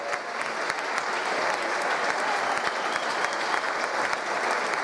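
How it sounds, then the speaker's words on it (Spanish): Steady, dense applause from an audience at a Santa Cecilia 2022 band awards ceremony, honouring a municipal music band, sustained and loud throughout with no talk over it. "Más fuertes aplausos"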